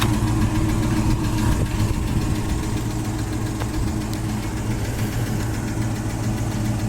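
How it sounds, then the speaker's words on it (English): A 1967 Ford Mustang coupe engine idles steadily at close range, with a faint rhythmic exhaust tick running through the low, even rumble. "it's just got a little exhaust tick to it"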